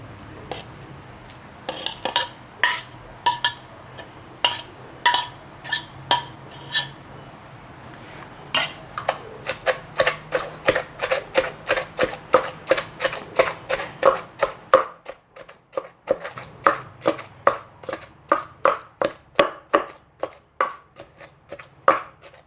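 Krachai (fingerroot) pounded in a mortar for a fish curry, a long run of sharp, rhythmic thuds that speeds up into steady, evenly spaced strikes, close and clear with no talk.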